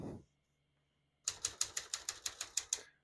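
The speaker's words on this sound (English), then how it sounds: "As you can see, all the keys type nice and none of them skip or stick." A 1957 Smith-Corona Skyriter ultra-portable manual typewriter types a quick run of about ten crisp, evenly spaced key strikes, close and clear, after a brief pause.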